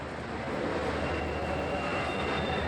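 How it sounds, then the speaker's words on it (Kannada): The Basava Express rumbles steadily through the first platform of a station, a continuous rolling roar with a faint high metallic squeal from the wheels. "ಬಸವ ಎಕ್ಸ್ಪ್ರೆಸ್ ಬಂದಿದ್ರಿ ಫಸ್ಟ್ ಪ್ಲಾಟ್ಫಾರ್ಮ್"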